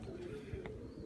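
A pigeon gives a brief soft coo outdoors in winter, faint and low against a steady background hum.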